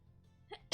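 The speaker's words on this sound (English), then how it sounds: "Gotta sneeze there, sorry." A single short sneeze, a faint intake then a sharp burst at the end.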